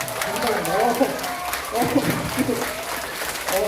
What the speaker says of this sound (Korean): 박수 좋아요.